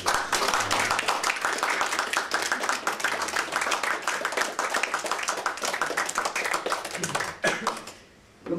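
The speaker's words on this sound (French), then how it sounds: "Je vous demande d'applaudir Stéphane." Lively applause from a modest audience for a man at a poetry gathering, with distinct, close hand claps packed into a fast steady patter that fades and stops near the end.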